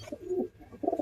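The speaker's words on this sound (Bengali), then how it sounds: "এই যে সব কবুতর ছেড়ে দিলাম, দানা পানি দিয়ে দিলাম।" Pigeons coo on a rooftop after being released and fed, a few soft, low throaty coos in short bursts close by, with no talking.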